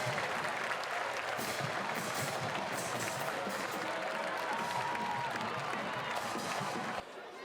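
Stadium crowd roaring and cheering after a near miss in a North Carolina women's soccer match, a dense, loud wash of voices and clapping that holds steady before dropping off abruptly near the end.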